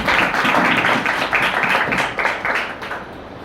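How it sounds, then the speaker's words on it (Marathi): A church congregation gives a round of thankful applause on Good Friday, a dense burst of many hands clapping loudly that thins slightly toward the end. "एकदा जोरदार धन्यवादाच्या टाळ्या वाजवा"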